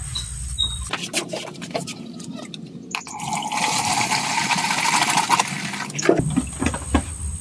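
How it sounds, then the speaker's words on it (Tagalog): Water poured into a goat drink of salt and molasses, a steady splashing, filling gush that swells over several seconds and then stops, close and fairly loud with no talking. "At buhusan na natin ng tubig."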